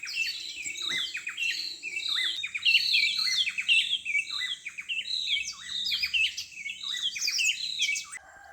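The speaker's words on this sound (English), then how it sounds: "I woke up very early today to catch the beautiful sounds of birds before they leave for the fields." Wild birds chirp and trill in a countryside garden early in the morning, a dense, lively chorus of bright, rapid calls that overlap continuously and stay close and loud throughout.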